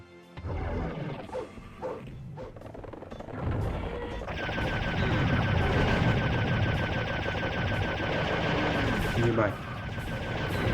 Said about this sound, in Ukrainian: кулемет. Так, лазерна рушниця.